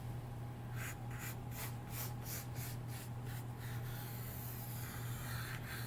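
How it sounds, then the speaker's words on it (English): Pencil drawing a pumpkin shape on paper in a second-grade art class, a run of quick rhythmic scratchy strokes, close and fairly faint over a steady low hum, then a short pause and a few more strokes. "I'm going to draw another pumpkin shape."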